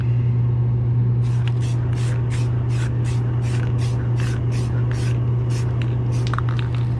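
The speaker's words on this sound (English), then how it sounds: "I'm going to clear coat this, and we'll give a light coat of clear." An airbrush sprays a light clear coat onto a painted license plate in a rapid series of short hissing bursts over a constant low hum.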